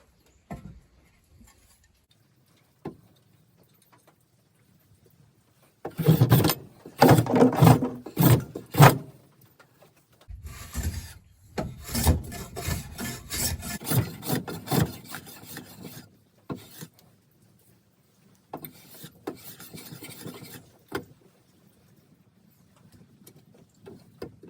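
A restored hand plane shaves wood in repeated rasping strokes, rough and close, arriving in irregular clusters separated by short quiet pauses.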